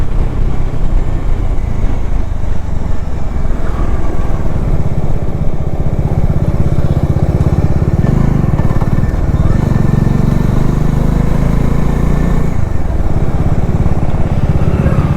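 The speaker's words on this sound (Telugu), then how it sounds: "మేము బైక్ మీద ఇద్దరు ఉన్నారు" A motorcycle engine carrying two riders hums steadily throughout, a low continuous rumble with slight rises and dips in pitch, no talking heard.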